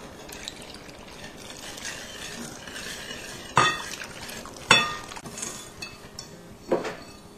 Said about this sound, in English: I'll just whisk those together, and then I'll gradually add in 1 cup of milk.